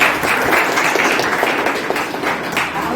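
An audience at a hostel farewell ceremony gives lively, fairly loud applause, many hands clapping in a dense, slightly uneven patter that fades a little toward the end.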